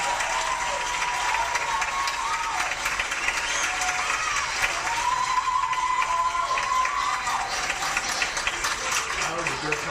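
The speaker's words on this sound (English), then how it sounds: "Please get them one more round of applause" An audience at a movie screening event applauding steadily, a dense continuous wash of clapping with a few cheers mixed in, sustained at even loudness throughout.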